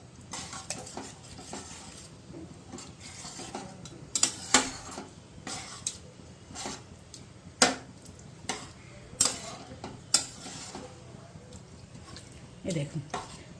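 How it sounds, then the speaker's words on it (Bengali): A spoon stirring chicken mince with chana and spices in a pan on a home stove, giving scattered scraping clinks and knocks against the metal over a soft sizzle, quiet and close. "চানার সঙ্গে আমি চিকেন কিমাটা ভালো করে মিশিয়ে দেবো মশলাটাকে"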